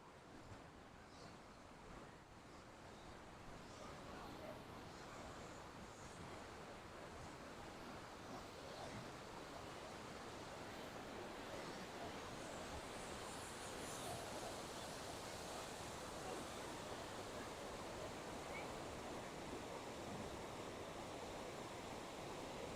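Rushing water roars continuously as a dense, broad wash of noise, steady and loud, with some wind buffeting the microphone, at Kootenai Falls, a series of stair-stepped waterfalls.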